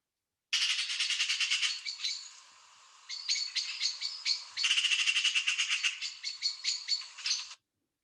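A corvid calls at Stodmarsh nature reserve. Harsh, rapid squawks come in several clear bursts with a brief dip in the middle, loud and alone against silence.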